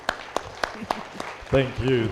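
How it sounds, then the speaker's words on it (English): A handful of separate, spaced claps sound at a public lecture, moderately loud against a quiet room, followed by someone speaking briefly. "Can I have a louder applause?"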